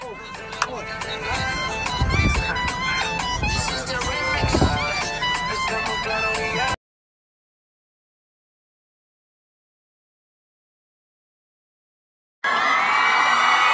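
A concert crowd shouts and cheers loudly with high-pitched voices for several seconds, then the sound cuts out into silence before the noisy cheering suddenly resumes.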